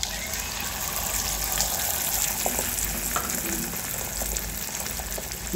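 Egg bhurji mixture sautéing in a pan over medium heat, a constant loud sizzle and bubbling hiss with faint stirring scrapes, no talking.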